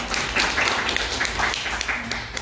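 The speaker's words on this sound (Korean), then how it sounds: "여러분 큰 박수 부탁드리겠습니다" An audience at an indoor presentation event claps and applauds, a steady patter of many hands, moderately loud and continuous through the moment.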